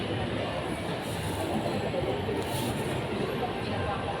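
A train rumbles steadily through a busy, crowded Manila rail station on the line toward Legarda, a constant low roar with faint crowd murmur beneath it.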